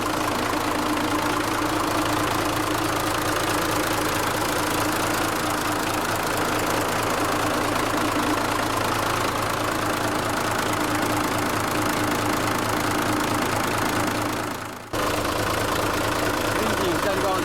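Diesel engine of a 2003 Mitsubishi Fuso Fighter press-packer garbage truck, 8200 cc and 210 horsepower, idling steadily close up with a low rumbling knock throughout and a brief dip near the end.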